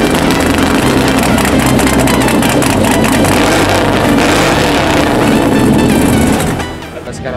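Supercharged big block 396 in a 1948 International K5 rat rod, running with nitrous: a loud, steady close-up engine drone that holds for about six seconds, then drops off sharply near the end.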